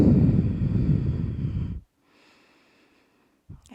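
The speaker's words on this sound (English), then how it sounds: "Breathe." Deep, slow breathing during a yin yoga session, a long loud exhale lasting nearly two seconds, then quiet, then the start of another breath close to the mic.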